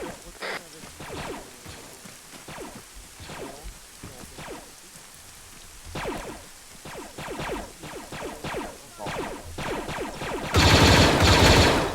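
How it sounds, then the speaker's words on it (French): Sustained machine gun fire in the Arma 3 video game, Clone Wars military simulation: rapid bursts of shots run through the whole stretch, loud and fairly close, ending in a dense, heavy volley of gunfire. "Encore une mitrailleuse dehors"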